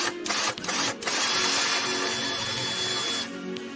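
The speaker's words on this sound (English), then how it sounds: "I'm going to drill 2 holes relatively close together" A power drill whines steadily at close range, drilling holes through a display base, with brief pauses near the start before running continuously and stopping near the end.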